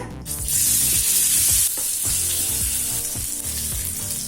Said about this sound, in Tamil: ஸ்லோலே வச்சு சேனக்கிழங்கு பொரிங்க